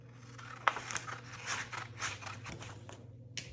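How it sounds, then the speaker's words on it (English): Scissors cutting paper along a fold while covering a notebook: a few short, soft snipping and crisp rustling strokes, close and fairly quiet, with no talking. "So I'm gonna cut along this fold, and I'm gonna cut along this fold as well."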